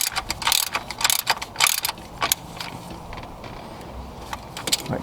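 A ratchet tightens a 17 mm bolt while a thermostat is refitted on a Toyota 3MZ-FE V6, giving quick runs of loud clicking strokes up close, with pauses between bursts and then quieter handling noise.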